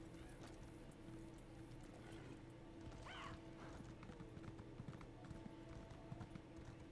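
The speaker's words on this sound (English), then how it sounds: "Horse!" Steady clip-clop of horse hooves with a brief neigh partway through, set against a constant game-like ambient hum.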